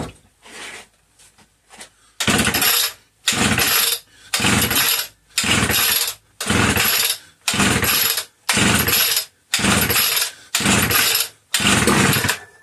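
A Homelite Super XL chainsaw, a barn find, is pulled over and over, giving about ten loud, evenly spaced rasping bursts of the engine turning without catching, with no talking.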